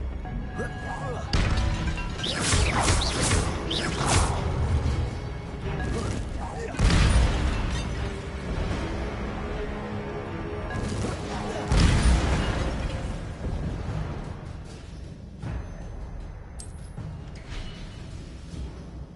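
An ancient magic spell blasts in the video game Hogwarts Legacy, giving loud booming crashes and rumbling, clattering impacts that swell in several heavy bursts across the stretch and then ease off.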